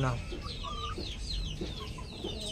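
A straight-comb chicken from a pumpkin hen cross clucks in a series of short, repeated calls, fairly close, over a faint background with occasional human voices.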